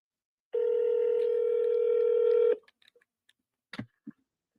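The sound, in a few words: telephone dialing and ringing, call not answered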